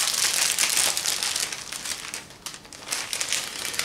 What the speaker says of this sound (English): we'll slide it back into the cellophane.